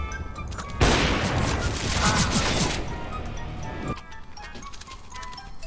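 Gunfire rings out in an online multiplayer shooter video game. A dense, loud burst of rapid shots lasts about three seconds, then sparser clicks and mechanical ticks follow.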